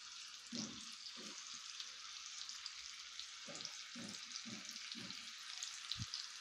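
Chopped onion frying in a pan for Mumbai street-style pav bhaji, a steady close sizzle running throughout with a few low knocks and stirring sounds, no talking.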